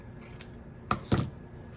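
Scissors snip off excess paper from a piece for an embellished note-cascade pocket, giving two quick, crisp cuts close by against a quiet room, with a faint tap just before.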